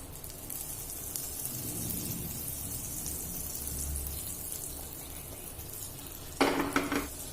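Marinated sausage sizzles softly in butter in a hot pan, a steady low frying hiss with occasional stirring and utensil scrapes, ending in a brief louder clatter of a spatula against the pan.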